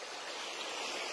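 Creek water rushing steadily at Falls Creek in the Coquihalla Summit Recreation Area, a continuous bright hiss of flowing water with no other sounds.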